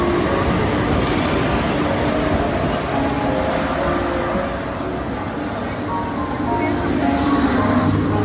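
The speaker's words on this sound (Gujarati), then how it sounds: "જો ટ્રેન આવી ગઈ." A train pulls into a station with a loud, continuous rumble and rattle of rolling wagons that stays heavy and steady from start to finish.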